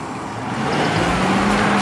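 A car engine rumbles and builds as it is revved with the gas, a low steady drone that grows louder toward the end, heard close with no talking.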